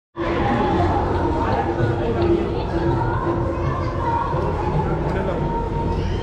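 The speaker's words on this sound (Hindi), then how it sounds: "कितनी भीड़ होती है संगतों की, जो हमेशा मत्था टेकने दर्शन करने आते रहते हैं" Crowd of devotees at Dukh Niwaran Sahib gurdwara in Ludhiana, a dense steady murmur of many voices and shuffling close around, continuous and fairly loud with one person talking over it.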